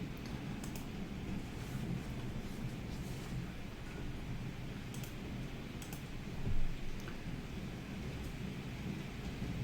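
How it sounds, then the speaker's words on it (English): Steady rain falls outside on a rainy day in Houston, with low rumbling thunder rolling underneath and a brief swell midway, heard as a continuous background wash. "You might be able to hear the rain behind me."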